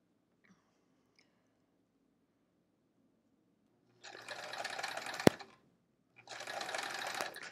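A sewing machine stitching a quilt block along a drawn diagonal line runs in two close, steady whirring bursts of a few seconds each, separated by a short pause, with a sharp click between them.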